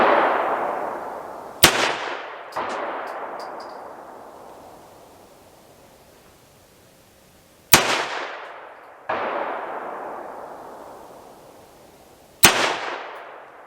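Three loud, sharp shots from a Ruger Mark IV .22 pistol, each with a metallic clang from steel targets or a hit on a pumpkin, trailed by long fading echoes outdoors. Faint extra pings follow two of the shots.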